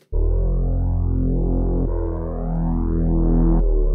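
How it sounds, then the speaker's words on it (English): A sustained synth tone with a sweeping flanger effect, its harmonics rising in repeated whooshing sweeps, heard alone and fairly loud. "You hear that kind of, you hear that flanging going on"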